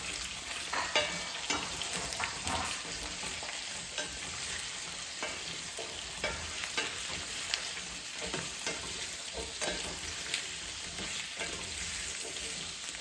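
Mustard seeds frying and being stirred for a South African pumpkin curry, a steady dense sizzle with frequent scraping stirs and small pops, close and continuous with no talking.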